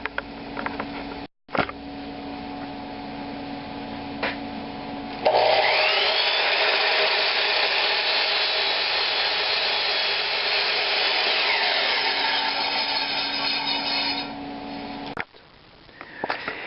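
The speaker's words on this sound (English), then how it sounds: "I got the miter saw set up here to cut the miters." A miter saw cuts miters in picture frame molding set on a filler block. The motor spins up, then the blade makes one long, loud, steady cut of about ten seconds before winding down, with quieter motor hum before and after.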